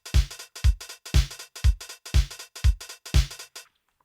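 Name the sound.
drum beat with 66% swing in a DAW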